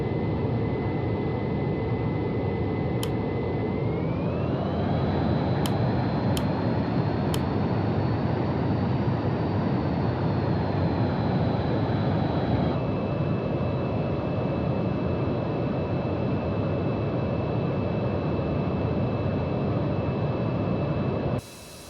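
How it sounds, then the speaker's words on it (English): A Qatar Airways A350-1000 taxiing in a flight simulator game gives a steady jet engine whine with a deep rumble, a tone that rises and then holds, a few sharp clicks, and a sudden stop at the end. "Taxi to holding point runway."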